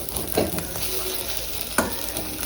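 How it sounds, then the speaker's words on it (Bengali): Two eggs frying together in a pan, a steady soft sizzle and crackle with a couple of scraping stirs. "ওদের ডিমের ডিমটা ভেজে দিচ্ছি দুটো ডিম একসাথে দিয়েছি"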